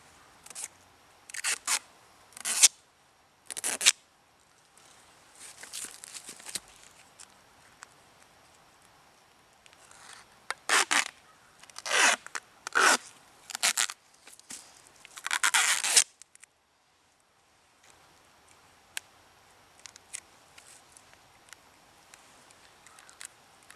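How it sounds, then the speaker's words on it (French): Cloth duct tape pulled off the roll and pressed onto a form, heard as repeated loud ripping and tearing bursts in irregular clusters, with quieter rubbing and handling between them and no speech. "L'astuce va être de prendre le ruban et mettre le côté collant vers l'extérieur."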